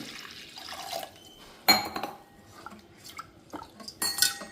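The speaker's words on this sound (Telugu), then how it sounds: "నేనైతే ఇలా అందాజుగా పోసేసుకున్నాను వాటరు" Water poured into a cooking pot for mashed lentil dal, with clattering of metal pots and utensils, short splashes and drips in bursts, fairly quiet and close, no speech.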